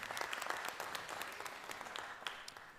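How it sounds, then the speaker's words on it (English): Audience at a college spring convocation applauding, a dense, even wash of many hands clapping, heard from some distance and fairly quiet throughout. "And let's give a round of applause for that."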